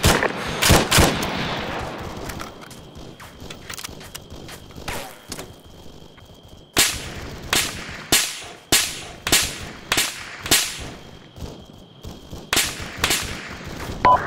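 Sharp, loud gunshots crack through a team-versus-team battle in the military game Arma 3, arriving as irregular single shots and short bursts that repeat throughout, some close and some more distant.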